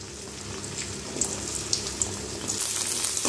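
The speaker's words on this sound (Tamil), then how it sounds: "இப்போ இந்த எண்ணெயில் வெண்டைங்காயை வதக்கி எடுத்துக்கலாங்க." Okra sautés in sesame oil with a rushing, hissy sizzle and a few sharp pops, close and fairly loud, brightening toward the end.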